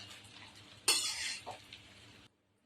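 Egg semiya being stirred together with pieces of fried egg in a pan, a short burst of scraping and clinking of a utensil against the pan, close and fairly loud, fading to silence at the end.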